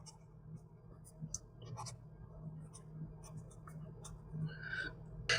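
A pen moving across paper while notes on Chola art and architecture are written, soft close scratchy strokes in short bursts over a quiet room hum, with a few clicks near the end.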